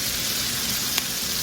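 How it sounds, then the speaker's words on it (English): A pan sizzles hard while cooking chicken piccata, a close, steady, loud frying hiss with one brief click near the middle. "Lower this a little bit, sizzling up a little bit too much there"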